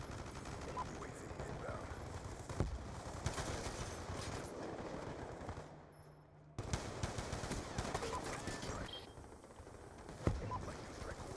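Bursts of automatic gunfire from the video game Black Ops 2 crackle steadily, with a short quiet gap midway before the shooting resumes, plus a sharp louder shot near the end.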